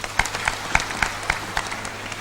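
Sparse, scattered clapping from a small audience during a sermon on persistence in prayer: a handful of distinct claps spaced about a quarter second apart, fairly close and moderate in level, with a brief voice mixed in.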